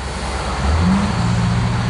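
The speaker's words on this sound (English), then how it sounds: "It's a big truck and making a lot of noise" A big truck rumbles past on a nearby road, a loud low engine drone that swells through the middle and lingers as it moves by, with no talking over it.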